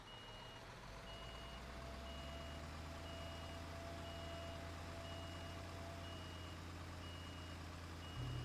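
Reversing beeps sound in steady even pulses from a truck in Construction Simulator 2015. A low engine drone runs beneath them, and the engine swells at the very end.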